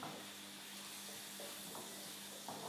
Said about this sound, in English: So giving this a stir, making sure that peanut butter is nicely incorporated.